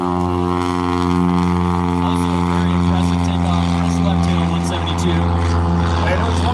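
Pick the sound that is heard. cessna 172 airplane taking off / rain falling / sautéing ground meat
cessna 172 airplane taking off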